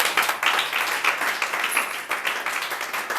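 Enthusiastic applause from a church congregation during a service, steady dense clapping that carries on for several seconds, with cheering voices mixed in.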